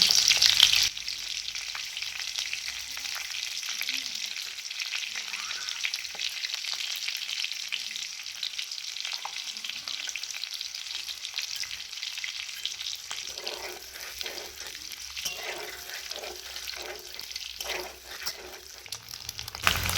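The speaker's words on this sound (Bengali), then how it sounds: "ডিমগুলো ভাজা হয়ে গেছে" Eggs frying in hot oil with a steady crackling sizzle, joined in the later part by bursts of stirring or scraping in the pan.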